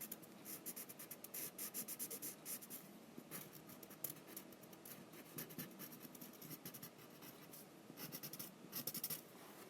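A blending pencil is worked across paper to color a mermaid's hair. Its faint, continuous scratchy strokes carry on alone throughout.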